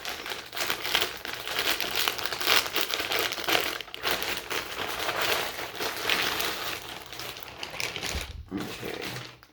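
Close, continuous crinkling and crumpling of plastic packaging around faux leather trousers being pulled open, with irregular rustles and tearing for several seconds.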